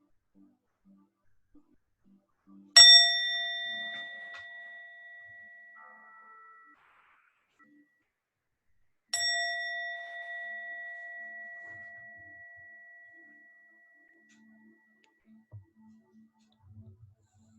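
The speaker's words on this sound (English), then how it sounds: "With the sound of the bell, you can open your eyes, return back to this moment." A meditation bell struck twice about six seconds apart, each clear ringing tone with bright overtones decaying slowly into near silence, with faint soft noises between strikes.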